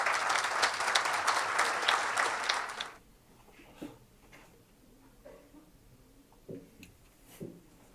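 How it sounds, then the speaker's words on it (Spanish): Loud audience applause at a ufology congress, filling the first three seconds before stopping abruptly, followed by a quiet hall with faint scattered noises. "Un fuerte aplauso."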